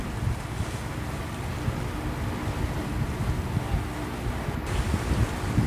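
Ocean waves roll and break behind a fishing boat at sea off Cà Ná, Bình Thuận, a steady low rumbling wash mixed with heavy wind buffeting the microphone, continuous and fairly loud.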